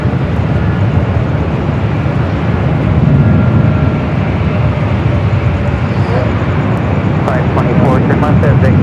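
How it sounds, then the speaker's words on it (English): A Hawaiian Airlines Airbus A321neo jet at LAX airport gives off a loud, continuous engine roar that holds steady throughout, with a brief voice coming through near the end. "is a Hawaiian A321neo up next. The flight heading to Honolulu"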